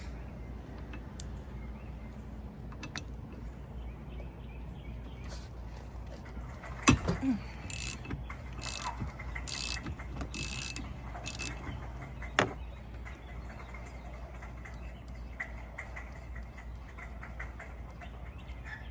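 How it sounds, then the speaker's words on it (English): A socket wrench works the 15mm nut off a Jeep Wrangler or Gladiator windshield wiper arm, with a sharp knock followed by a short burst of rapid ratchet clicks and an occasional later clank, amid quiet background noise. "Just take that one nut off of there."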